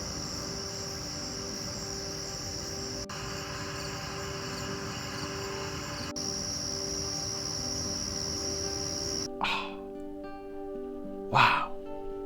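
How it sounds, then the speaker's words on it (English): Crickets chirp in a constant, dense high trill outdoors in the early morning, then fall silent near the end, when a couple of short bird calls ring out alone. "I got some early morning shots outside with the crickets."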